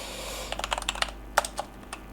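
Rapid irregular clacking of computer keyboard keys while C++ code is typed, close and fairly clear, in short bursts with brief pauses and no talking.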